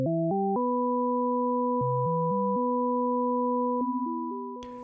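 Electronic sine tones generated in ChucK by sporked functions, with layered voices an octave apart, stepping through short pitch changes in a clean, steady sequence, ending with a brief burst of noise, no talk.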